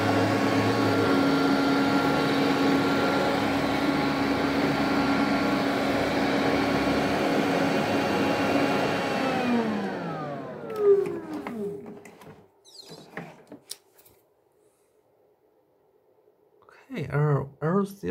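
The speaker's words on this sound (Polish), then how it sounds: "I think it is the loudest robot vacuum cleaner ever made." An Electrolux Trilobite 2.0 robot vacuum cleaner whines loudly and steadily with a tonal hum, then spins down in a falling pitch sweep to near silence, followed by a few clicks and a brief electronic voice prompt.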